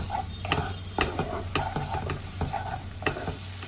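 A spoon stirs garam masala and a little sugar through a sizzling duck egg curry in a pan, giving steady frying hiss with repeated sharp scraping clacks, close and alone.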